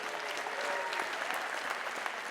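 Audience at a county address applauding and cheering for a newly introduced councilman, a dense, steady patter of clapping with scattered whoops, somewhat distant.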